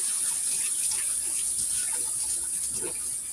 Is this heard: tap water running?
yes